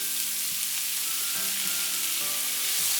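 Chicken stir-frying with chopped white onions and minced garlic in a hot pan, a steady close sizzle broken by the scrape and clatter of stirring, with no talking.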